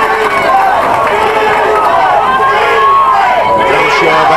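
Crowd at a 1993 Keighley Cougars versus Batley rugby league match, a loud, continuous roar of cheering that swells as play advances, with a commentator talking over it.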